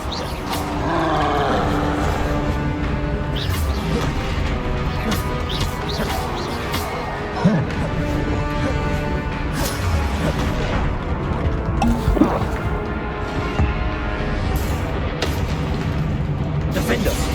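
Confringo blasting curses explode repeatedly in a Hogwarts Legacy fight, booming bursts and crashes mixed with combat grunts and roars, while voices talk over the battle.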